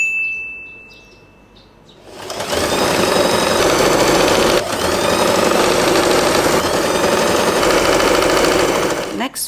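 A sewing machine stitches jacquard fabric for a big hair bow, a loud continuous mechanical whir that starts after about two seconds of quiet and runs steadily to the end, with one brief dip midway.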